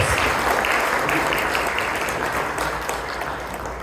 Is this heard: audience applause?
yes